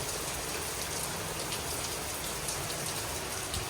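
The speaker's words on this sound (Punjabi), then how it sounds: "ਬਾਈ ਚੱਲ ਪਿਆ ਕੰਮ ਪੂਰਾ ਤੇਜ਼ ਮੀਂਹ ਵਾਲਾ ਦੇਖੋ" Heavy rain pours down at night during a thunderstorm in a village. It makes a dense, steady roar of rainfall that stays unbroken throughout, with no voices.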